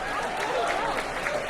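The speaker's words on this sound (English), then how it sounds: "Why don't we all give ourselves a great round of applause?" A crowd at a Chicago South Side political event in Bronzeville breaks into a short burst of steady applause, with a voice faintly heard over it.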